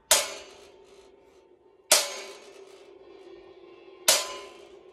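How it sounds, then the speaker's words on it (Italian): A drum cymbal in a music shop is struck three times with a drumstick, each a sharp bright crash that rings and decays before the next hit, close and alone. "Andiamo a sentire il suono dei piatti."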